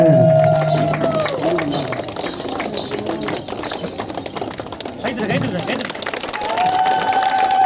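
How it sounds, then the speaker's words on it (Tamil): Audience at a Tamil village Magamayi folk drama during a Masi festival, clapping and shouting in a steady crowd roar throughout, with a loud voice talking over the noise at the start and end. "அதான் கைதட்டி கொலை சத்தம் போடுங்க"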